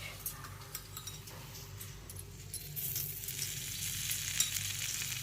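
Okra fries in a small amount of oil, giving a soft, fairly faint sizzle with light ticking clicks that grows a little louder and denser halfway through.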